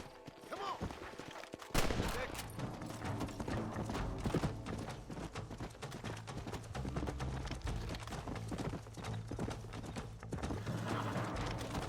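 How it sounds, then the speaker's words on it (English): Horse hooves clip-clopping in Red Dead Redemption, a steady loud galloping rhythm that kicks in after about two seconds and runs on with rattling tack and game ambience. "Where's my horse? Come on,"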